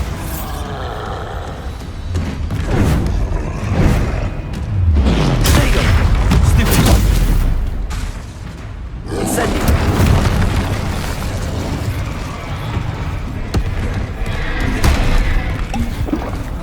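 Bombarda blasting spell in Hogwarts Legacy: repeated loud booming explosions with rumbling low-end bursts through a dense, chaotic battle mix. The strongest blast swells midway, then more impacts and crackling follow.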